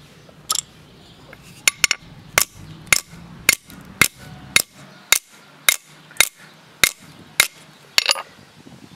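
A sledgehammer repeatedly strikes an AMD CPU processor, giving about a dozen loud, sharp metallic impacts at a fairly even pace with short, quiet gaps between them.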